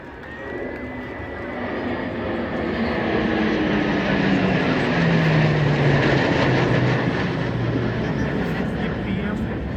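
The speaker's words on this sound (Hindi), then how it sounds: "These aircraft have taken flight from different air bases from across the country to line up and present an aerial salute." Military aircraft formation roaring overhead in an aerial salute flypast at a Republic Day parade rehearsal on Kartavya Path near India Gate, New Delhi; a loud, sustained jet drone swells and holds across the whole stretch, with a commentator's voice running underneath.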